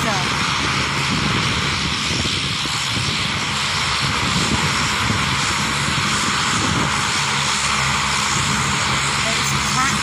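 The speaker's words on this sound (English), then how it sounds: "The engine noise has got a lot louder. The propellers are spinning faster." Propeller airplane engine revving up before taxiing on a runway, a loud continuous droning roar with a steady buzz, heard from close by with a voice talking over it.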